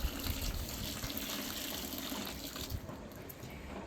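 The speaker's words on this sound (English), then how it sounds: "So I'm going to put the last hot water." Hot water being poured into a container to soak reusable cloth sanitary pads, a steady close gushing splash that stays even throughout and then eases slightly toward the end.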